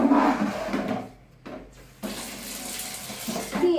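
Water running from a tap while a toilet and basin are scrubbed clean, a steady close rush that drops away for a moment and then comes back in a broader splashing flow.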